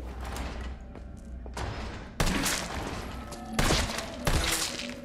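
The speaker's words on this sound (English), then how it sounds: "3 shots to the head with an AR and they're not going down" Assault rifle fire at zombies in Resident Evil 3 Remake: a few sharp, loud bursts of gunshots in separate bursts over a murky, rumbling background, no talk.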